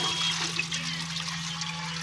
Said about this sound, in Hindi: अब एक देख के चावल हम धो रहे हैं, ये देखें।